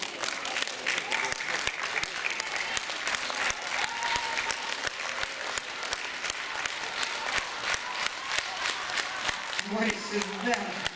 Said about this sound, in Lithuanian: Jiems didžiausi plojimai.